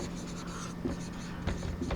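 Chalk or marker writing on a classroom board, short scratchy strokes and taps repeating irregularly, close up under a low hum and a faint voice.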